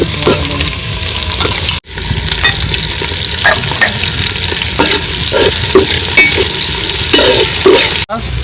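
Chopped onions hit hot oil in a cooking pot for khichuri and fry with a loud, close sizzle and stirring scrapes, broken by two brief cuts in the sound.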